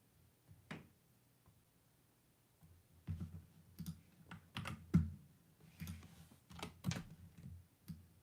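Fingers tap on a computer keyboard in quiet, irregular bursts of soft clicks, with a pause early on before the typing speeds up, heard close and faint with no voices.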